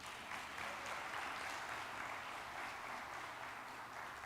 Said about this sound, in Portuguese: Quero um aplauso para Jesus.